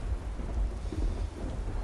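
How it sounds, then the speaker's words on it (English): Steady rain falls with low rumbling thunder in Skyrim, a dense continuous wash of noise with deep rolling swells, no voices. "The rain is... well, it's soaking me straight through here."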